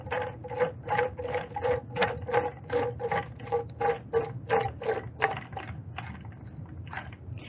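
Twisting the top of a YEP-838-BS stretch wrap dispenser to secure a loaded film roll gives a quick, even series of sharp ratcheting clicks, about a dozen, close up, then winding down.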